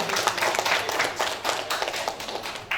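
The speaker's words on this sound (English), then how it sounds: "please give a big clap to our speakers tadi." Audience clapping for speakers at an academic symposium panel, a short burst of many hands, fairly loud and irregular, with no speech over it.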